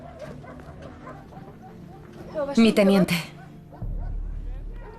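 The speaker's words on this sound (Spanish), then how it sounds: "Oíamos los gritos y los ladridos de los perros." Dogs bark in a brief, loud burst outside camp barracks near Dachau, rising over a man's speech and then giving way to a low rumble.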